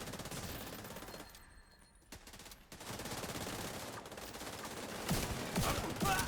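A gun turret in a video game fires in rapid bursts of automatic gunfire, with sharp crackling volleys broken by brief pauses and a final louder flurry of shots near the end.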